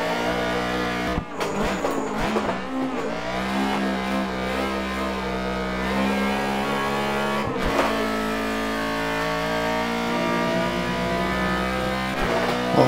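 A small Honda engine drives on the Tsukuba racing circuit, revving high in a steady sustained drone that rises and falls through gear changes, loud and close throughout.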